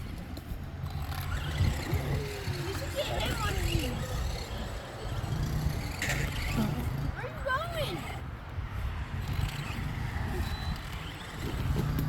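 A real R/C truck drives off-road, its small motor whining in rising and falling bursts amid crunching terrain noise, while people talk over it.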